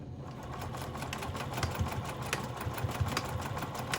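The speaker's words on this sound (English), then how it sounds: "And then we're top stitching there again." A sewing machine top stitches along the edge of a zipper on a pouch, its fast mechanical chatter and motor hum continuing steadily without a pause, close up.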